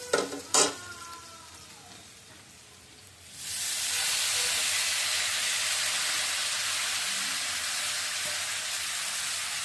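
Bele fish slid into a hot pan of frying potatoes set off a loud, steady sizzle that swells after a couple of faint clinks and holds strong to the end, with no talking.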